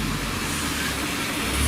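An RC drift car skids and whirs in a steady broadband rush that swells slightly toward the end as its speed climbs, with no voices.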